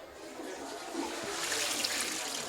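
A toilet flushes in a newly built shelter's water closet, a steady rushing gush of water that swells slightly and keeps pouring, close by.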